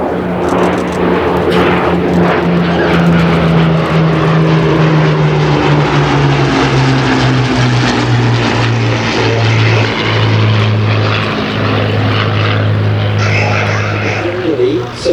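A Royal Air Force Hawker Hurricane fighter flies a loop at an airshow at Sywell, its propeller engine droning loudly and steadily with a shifting, sliding pitch through the manoeuvre, while a commentator's voice runs over it.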